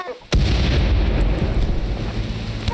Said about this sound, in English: Oh, that's grenades.